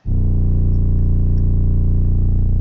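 A heavy 808 bass from the KFC kit in FL Studio plays as one loud sustained low boom that holds steadily without fading, alone and without talk.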